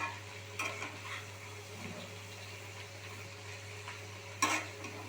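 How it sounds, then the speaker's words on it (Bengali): Fenugreek greens fry with a little salt in a pan, a faint steady sizzle with occasional stirring scrapes and one sharp utensil knock near the end. "সামান্য নুন দিয়ে হালকা করে আমি ভালোভাবে ভেজে নেবো"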